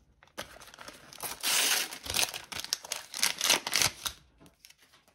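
A foil Panini FIFA 365 sticker packet is torn open and crinkled up close, with a longer ripping tear followed by a run of sharp crackling and rustling bursts, no voices.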